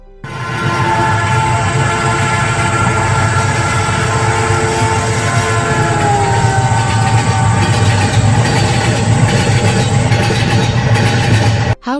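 Train running on rails and rounding a curve, a loud steady rumble of wheels on track with a sustained high metallic squeal and tonal whine, close and continuous throughout.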